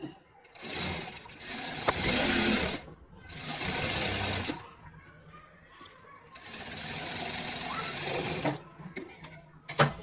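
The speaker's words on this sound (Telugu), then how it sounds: "డబుల్ స్టిచ్ చేసుకుందాం." A sewing machine double-stitches crepe fabric for a palazzo, running in several loud, close bursts of rapid mechanical chatter with short pauses between them.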